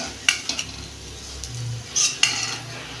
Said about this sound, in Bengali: এই দেখুন এইভাবে আমি সব বড়া কটা ভেজে নেব